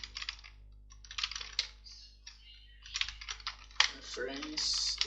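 Keys clatter on a computer keyboard in quick, irregular bursts with short pauses, close and fairly quiet in a calm room.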